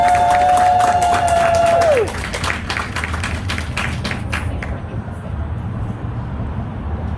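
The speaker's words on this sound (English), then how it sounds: "let's give a round of applause for Chloe Allen." Crowd applause and cheering at a fifth-grade school awards ceremony, starting under a fading held tone and continuing as steady scattered clapping that thins toward the end; a voice briefly rises over the crowd.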